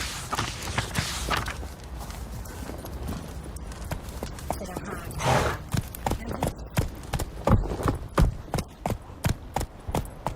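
Hooves of the horse Roach in The Witcher 3 pound in a quick, regular clip-clop that grows sharper and more distinct toward the end, with a voice briefly over the start.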